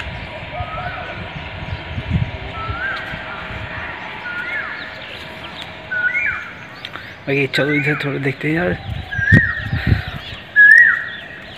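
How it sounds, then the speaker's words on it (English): Birds chirp outdoors in a city park during lockdown, a few short rising calls repeating at moderate distance beneath someone talking and low background rumble. "hear it, the chirp of the birds."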